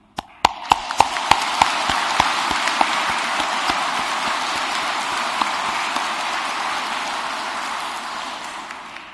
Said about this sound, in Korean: 존경의 박수를 보냅니다.